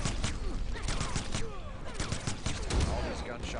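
Rapid bursts of video game gunfire in a Mortal Kombat tournament match, sharp repeated cracks in quick clusters, with a crowd and game effects mixed in behind.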